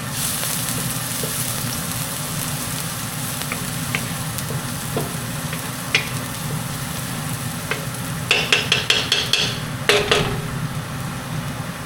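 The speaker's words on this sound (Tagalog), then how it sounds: "sautay lang ng garlic and onion, and then leeks" Garlic, onion and leeks for a Korean chicken stew sizzle and fry in a pan, a steady crackling hiss with occasional stirring scrapes and a cluster of sharp utensil clinks near the end.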